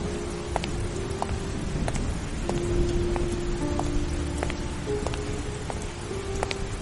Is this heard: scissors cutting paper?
no